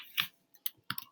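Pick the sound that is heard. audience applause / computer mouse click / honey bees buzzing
computer mouse click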